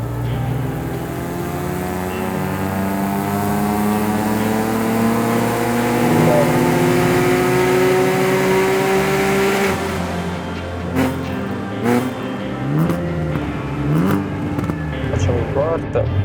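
An Alfa 156 GTA, converted to a manual gearbox, pulls hard in third gear from 3000 rpm, its engine note climbing loudly and steadily. The throttle then lifts into a lower rumble broken by sharp ticks and crackles.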